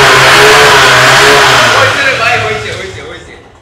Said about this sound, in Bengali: ইঞ্জিন দেখছেন কত স্মুথ একটা ইঞ্জিন।